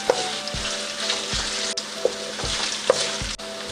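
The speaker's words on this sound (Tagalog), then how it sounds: "Gigisa lang po natin yan hanggang sa medyo mag light brown po yung ating bawang." Ginger sizzles and fries in a hot pan for chicken paklay, a close, steady crackling hiss broken by a few sharp clinks and scrapes of a utensil stirring against the pan.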